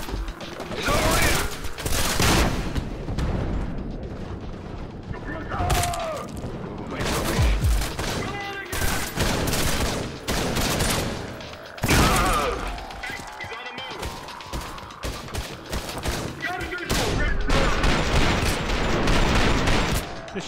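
Heavy, sustained gunfire from the Trepang2 video game, repeated loud close bursts of shots and impacts in dense volleys across the stretch, with someone talking over the shooting.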